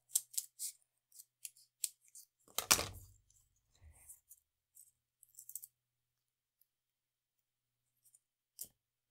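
Scissors cutting paper for a Z-fold easel card, a string of crisp close snips with one longer crunching cut near the start, then scattered light clicks and near silence.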